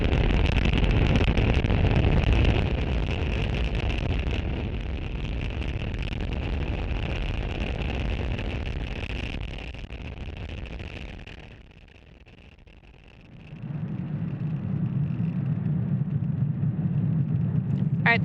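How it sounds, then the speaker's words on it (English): SpaceX Falcon 9 rocket liftoff from Space Launch Complex 40 at Cape Canaveral, Florida, on a Starlink mission: a broad, sustained roaring rumble that fades toward a lull, then a steadier low drone returns. "Falcon 9 has successfully lifted off from Space Launch Complex 40 from Cape Canaveral, Florida"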